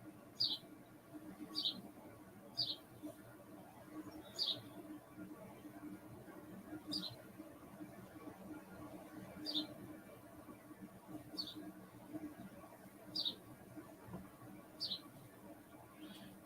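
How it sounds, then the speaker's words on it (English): Short, high bird chirps ring out at fairly regular intervals over a quiet, low background hum, sounding a little distant. "Hope you enjoy the birdies chirping outside."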